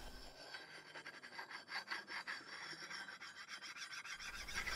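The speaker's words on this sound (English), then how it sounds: "At first, the sound of frictions shows many bumps." A flat stone rasps back and forth across a surface being ground flat, a rhythmic, close scraping friction that swells and fades with each stroke, heard alone.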